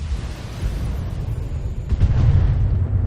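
Missiles launched and exploding in the Battletech mech combat video game, a sustained low rumbling roar of blasts that swells louder toward the end, with no talk over it.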